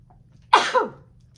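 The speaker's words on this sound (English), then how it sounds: "I'm getting ready to sneeze." A single sharp sneeze bursts out close by in a quiet room, a quick two-part burst that fades within half a second.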